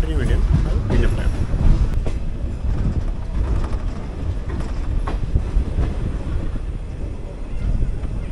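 The 16128 Guruvayur–Chennai Egmore Express at Thrissur gives a loud, steady rail rumble with rattling wagon noise throughout, and voices break in over it.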